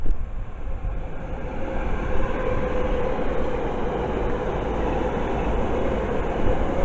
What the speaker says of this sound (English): it's a Bakerloo on Overground. It's a London Overground Bakerloo line.